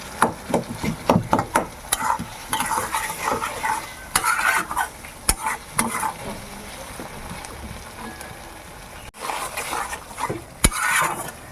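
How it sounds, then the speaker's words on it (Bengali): A metal spatula mashes and stirs tomatoes in a hot pan for a fish curry with khamalu yam, giving irregular scraping strokes and knocks over a soft sizzle, with occasional louder clanks. "টমেটোগুলো একটুখানি খুন্তি দিয়ে গলিয়ে দিই।"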